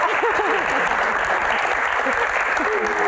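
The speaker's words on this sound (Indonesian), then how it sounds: "Tepuk tangan buat Pak Manoj." A studio audience applauds Manoj Punjabi on an Indonesian talk show, a sustained, dense burst of clapping and cheering, with a voice speaking over the applause.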